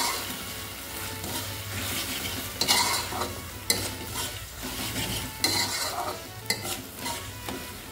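Chopped tomato is stirred into palak chicken in a hot pan, with a steady close sizzle and repeated scraping and clinking spoon strokes against the metal.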